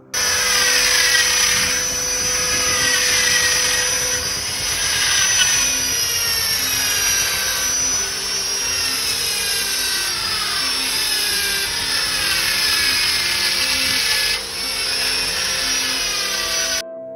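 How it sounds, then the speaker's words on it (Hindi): Stone cutting at the Shri Ram Janmabhoomi temple construction site in Ayodhya, a loud, continuous high-pitched whine of power saws grinding through stone, steady for the whole stretch with slight wavering pitch, no voices. "अभी वर्तमान में श्री राम जन्मभूमि परिसर में पत्थरों की तराशी एवं कटाई का कार्य चल रहा है"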